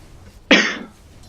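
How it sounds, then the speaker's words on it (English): A single sharp cough, close and loud, lasting about a third of a second against a quiet background. "Excuse me, I have a bit of a cough."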